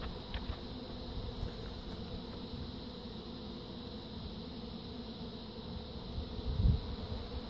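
A bee swarm buzzes at its hive, a constant, close drone of many wings holding steady with small swells and a brief louder pass near the end, alone without talk.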